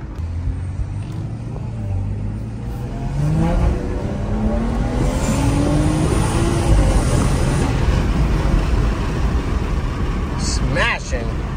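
A BMW G30 540i with a ZF automatic transmission accelerates hard, engine pitch rising in steady sweeps with gear shifts breaking each climb, loud and close from inside the cabin.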